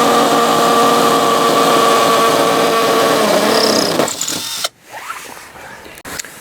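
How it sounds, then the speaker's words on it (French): A cordless 18V hammer drill-driver with variable speed and a 10 mm chuck runs steadily with a loud, close whine, then stops abruptly near the end, followed by a few faint clicks and handling noises. "Ce qu'on aime bien, c'est qu'elle fait percussion visseuse-perceuse, bien sûr, de vitesse."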